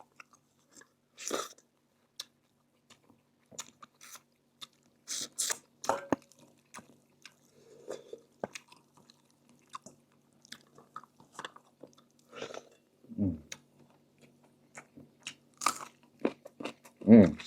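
Crunchy food chewed close to the mic during a meal of Ryukyu fish-head curry with pickled marian plum, a series of crisp bites and crunches in irregular bursts with quiet gaps.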